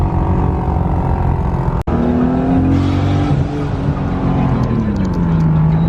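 A Nissan Skyline R34 engine runs loud and close, its steady drone cutting out abruptly for a split second as it misfires before picking back up, the pitch later shifting.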